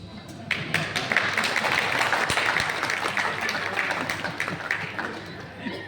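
Audience applause at a Hindi poetry recital (kavi sammelan) in Siwan, a dense sustained patter of many hands clapping for several seconds with crowd murmur beneath.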